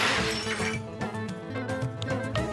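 A glass pane shatters loudly and close, followed by a continuous crash and tinkle of breaking glass that lasts the whole moment.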